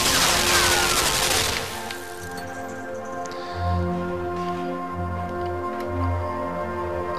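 Machine gun firing in the video game Limbo: a dense burst of rapid shots at the start, then a few heavy, pulsing low booms over a steady hum, with no voices.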